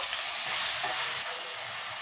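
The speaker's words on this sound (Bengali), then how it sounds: "মাছটা হালকা ভেজেছি" Prawns fry in hot ghee in a pan, a dense, steady sizzle and hiss close by that stops abruptly at the end, with no voices.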